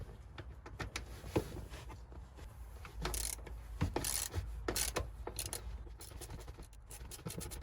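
A ratchet works loose the driver's seat bolts in a Rover 25 / MG ZR, with close bursts of rapid clicking and scraping metal that come in short runs with brief pauses.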